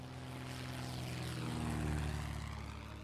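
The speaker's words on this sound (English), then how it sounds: "Is that a plane?" Airplane drones overhead in the video game 60 Seconds, a steady propeller hum with sustained low tones that swells slightly toward the middle and eases off, heard alone without talk.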